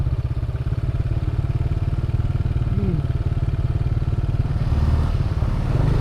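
Yamaha NMAX Version 2.1 scooter ridden along a coastal road in Dingalan, Aurora, its engine putting out a steady, rapid pulsing drone close to the mic with some rattling, with a brief rise near the end.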